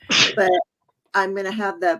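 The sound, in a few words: sneeze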